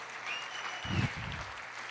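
Congregation clapping during a church worship service, a short burst of applause swelling for about a second amid sustained reverberant room noise and a faint tone.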